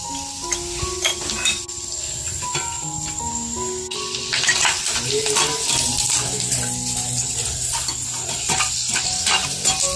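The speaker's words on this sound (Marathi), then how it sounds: "आता हे बदाम तळून घेते." Almonds fry in hot oil for a crispy poha chivda, a steady sizzle with a spoon stirring and clinking against the pan, close and fairly loud throughout.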